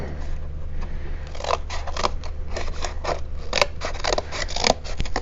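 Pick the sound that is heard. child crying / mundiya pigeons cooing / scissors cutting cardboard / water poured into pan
scissors cutting cardboard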